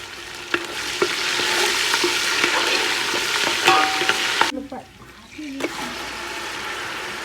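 Curry leaves and three dried red chillies fry in hot oil for a fish curry, giving a loud, steady crackling sizzle with a few sharp pops, which drops away for about a second before resuming.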